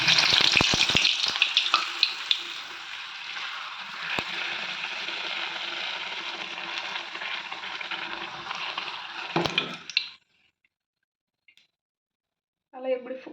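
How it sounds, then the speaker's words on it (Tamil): Puri dough sizzles and bubbles in hot oil in a home kitchen, a bright, steady crackle for about ten seconds with a few clinks, then it cuts to quiet before a brief return of frying noise. "எண்ணெய் ஹீட் ஆகிடுச்சு. இப்போ நம்ம பூரி போட்டுக்கலாம்."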